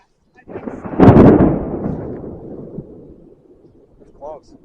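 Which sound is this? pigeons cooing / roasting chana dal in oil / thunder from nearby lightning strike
thunder from nearby lightning strike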